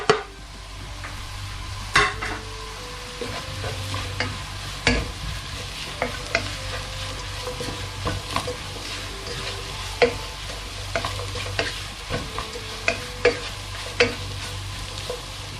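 Coriander powder roasting in a pan for Kerala beef curry. A low steady sizzle runs under regular scraping stirs and sharp spatula knocks against the pan, close and fairly quiet.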